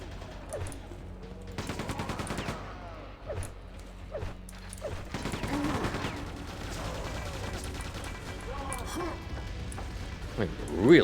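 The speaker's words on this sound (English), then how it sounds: "that's the new variant they added in Call of the Machine, where it uses the nail gun equivalent" Rapid bursts of nail-gun fire from an enemy in the Quake 2 Call of the Machine expansion, several volleys rattling over a dense game soundscape of other weapons and noise, with a voice talking throughout.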